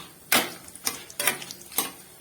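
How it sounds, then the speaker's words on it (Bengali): Whole spices (cardamom, cinnamon and cloves) are stirred in a frying pan, giving four distinct scraping strokes at an even rhythm, close and fairly loud, over a faint sizzle. "গোটা গরম মশলা, এলাচ, দারচিনি আর লবঙ্গ দিয়ে একটু নাড়তে থাকবো।"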